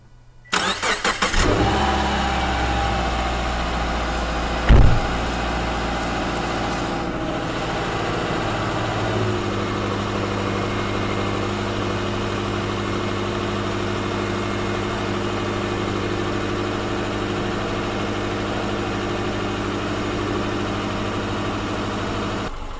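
A Subaru Forester engine cranks and fires after a valve cover replacement, with a brief surge in revs around the five-second mark, then settles into a steady, loud, even idle that runs close by for the rest of the clip.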